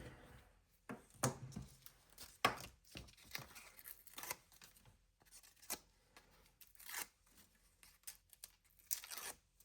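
Card stock being trimmed down into a card base, heard as quiet, close snips and papery tearing cuts in irregular bursts with soft handling rustles between them.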